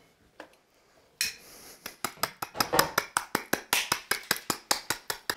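Fresh ginger is chopped on a board for a cocktail, a quick run of sharp, evenly spaced knife chops, close and crisp, after a brief quiet start.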